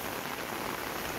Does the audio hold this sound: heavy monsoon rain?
yes